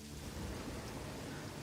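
Steady rain with a low thunder rumble from the weather effects in the Satisfactory video game, version 1.2, a constant dense wash of rainfall with no voices.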